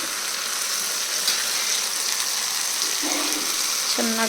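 Brinjal bajji frying in a pan of hot oil, a steady, close crackling sizzle that carries on throughout, with a short voice heard faintly near the end.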